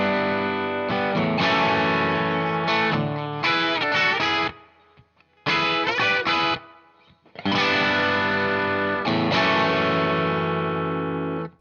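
Distorted electric guitar plays the next section of a riff, loud chordal phrases with effects, broken by two short pauses, alone without talk.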